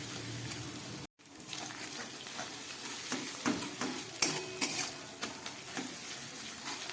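Ginger and garlic paste frying in a pan, a quiet sizzle after a brief cut, with occasional spoon scrapes and stirring clinks, fairly soft overall; no voices.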